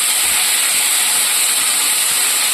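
Squash pieces dropped into hot oil give off a loud, steady, close sizzle, an even broad hiss with no break.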